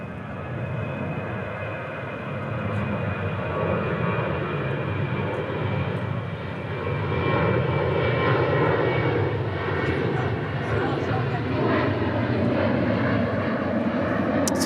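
A Qantas jet airliner at DFW airport roars steadily nearby, its broad engine rumble holding throughout and swelling louder in the second half, with no talking over it.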